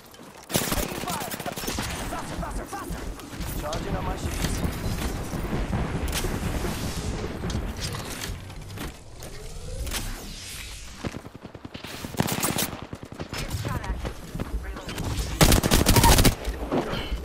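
Rapid automatic gunfire in a shooter video game, long dense bursts of shots crackling almost continuously, with louder clusters toward the end and game effects underneath.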